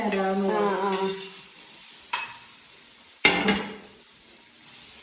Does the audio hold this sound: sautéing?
yes